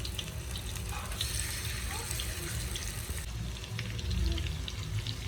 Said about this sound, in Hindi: तो अब हम ऑयल में सब मच्छी के पीस को एक एक करके रख लेंगे।